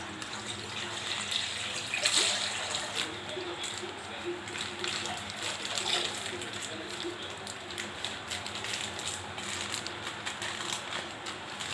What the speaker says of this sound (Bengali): দুধটা ঢেলে দিচ্ছি